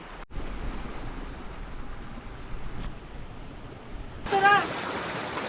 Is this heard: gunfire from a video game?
no